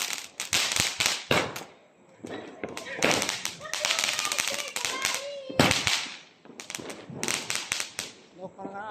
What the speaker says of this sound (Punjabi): ਲਓ ਜੀ ਹੋਰ ਇੱਕ ਪਟਾਕਾ